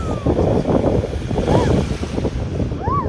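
Loud wind roars and buffets the microphone outdoors in an open cemetery, a continuous low rushing rumble with faint chirps and sounds in the background.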